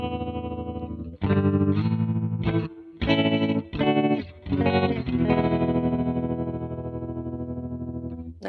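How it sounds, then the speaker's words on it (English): A MoogerFooger ring modulator plugin used as a tremolo gives sustained distorted synth chords a choppy, pulsing on-off stutter, then a long fluttering held tone that slowly fades. "one of my favorite ways to use a ring mod is like a tremolo that kind of changes"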